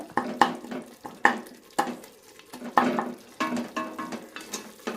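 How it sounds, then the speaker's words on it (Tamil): Spoon or spatula scraping and pressing tomato masala in a pan, mashing it lightly while making tomato rice; repeated soft scrapes and taps in an uneven rhythm with a faint sizzle underneath, close by, no talk. "லைட்டாக இப்படி மசிச்சு விட்டுக்குங்க."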